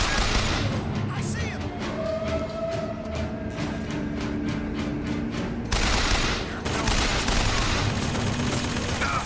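A turret in the Bioshock Infinite video game fires rapid bursts of gunfire, a clattering run of shots followed by louder, denser volleys near the end.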